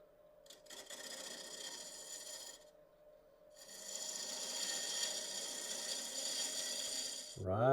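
A 5/8 inch spindle gouge cuts wood on a lathe with a close, raspy shearing noise. It stops briefly, then resumes more steadily and ends with a short knock.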